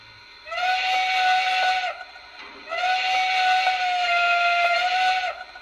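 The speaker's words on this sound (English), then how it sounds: "Whistle number three." A Lionel model train sounds two long, steady whistle blasts, loud and close, separated by a short gap, the tone holding evenly through each blast.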